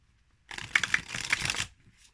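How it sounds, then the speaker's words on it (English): A quick, close riffle of tarot cards being shuffled, a brief papery flutter lasting about a second before it stops. "So let me go and shuffle the cards."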